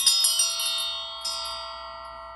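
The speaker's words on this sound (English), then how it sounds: "I am going to ring the bell just to cleanse the energy real quick" A bell rung to cleanse the energy gives several clear metallic strikes with sustained ringing overtones, the tones layering and decaying slowly across the whole span, heard alone with no talking.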